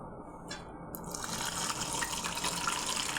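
Water swishes and pours in a vessel as dal lentils are rinsed to float off their husks, starting quietly and then becoming a steady close running and splashing.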